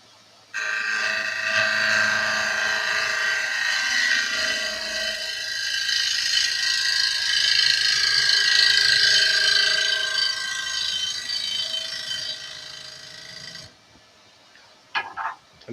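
Wood lathe spinning a workpiece as a tool cuts it down to a tenon, a steady whirring, scraping hiss with a sustained high tone that holds for about thirteen seconds, then stops abruptly, leaving a few faint clicks.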